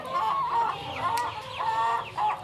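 Chickens cluck in a rapid run of short, rising calls, close and fairly loud, with no talk over them.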